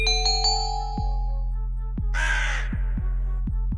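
A crow caws loudly and close by, with a tonal chime at the start and several sharp clicks against a steady low hum.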